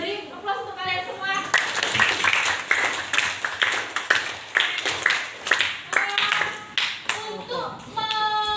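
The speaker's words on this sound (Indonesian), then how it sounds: "Beri aplaus untuk kalian semua." A classroom full of students claps for group presentations, a dense burst of hand claps lasting several seconds, with children's voices chattering before and after the applause.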